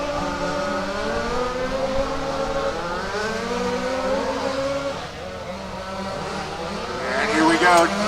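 Race cars running down the back straight at a RAMS WCC race at Warm Springs, engine notes rising and falling as several cars pass in close company at moderate distance, with a commentator talking over them.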